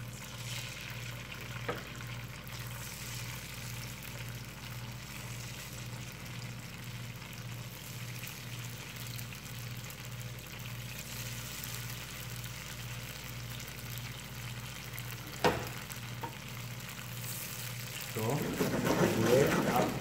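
Tofu fries in a pan over lowered heat as a soft, continuous sizzle under a steady low hum, with a louder crackle near the end.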